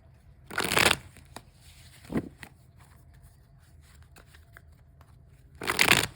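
Two brisk riffle shuffles of a card deck, one at the start and one at the end, with quiet handling noises between them.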